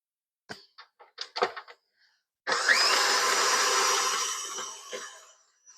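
Soft clicks and taps give way to a loud electric mixer whirring steadily for about two seconds as it beats cream cheese and butter in a bowl for carrot cake frosting, then winding down and stopping.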